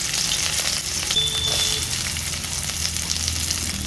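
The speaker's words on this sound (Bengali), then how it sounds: "তেল গরম হয়ে গেছে দিয়ে দিচ্ছি দুটো শুকনো লঙ্কা দিয়ে দিচ্ছি থেতে করা রসুন দিয়ে দিচ্ছি পেঁয়াজ কুচি" Two dried chillies, crushed garlic and chopped onion frying in hot oil for a simple masoor dal, a loud steady sizzle close up, with a brief high whine and light stirring.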